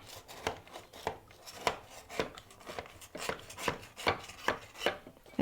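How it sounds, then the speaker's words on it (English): A butter knife is dragged around the edge of a coffee cake pan, giving a string of quiet, close scraping strokes in a loose, regular rhythm. "I am going to just run a butter knife around the edge"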